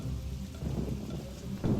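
Steady rain hisses in an animated story, with a low rumble of thunder swelling near the end, heavy and close, no voices over it.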